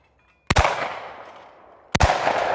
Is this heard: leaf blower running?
no